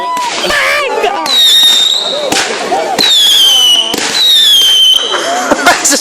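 Fireworks burst at the 2012 Potton public display, loud crackling explosions with whistling rising streaks repeating every second or so, with people talking nearby.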